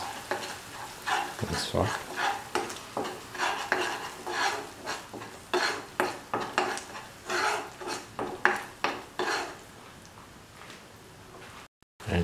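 Rhythmic scraping strokes of a spoon stirring coriander powder and salt through soya chunk kofta stew in a sizzling pan, close and fairly loud, stopping near the end; a voice speaks briefly.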